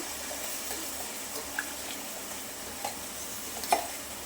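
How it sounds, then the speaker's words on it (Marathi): Ground masala paste for Kolhapuri misal sautés in oil, a faint, even sizzle with a few light stirring clicks over it. "वाटण आपल्याला तेलामध्ये छान परतून घ्यायचं आहे"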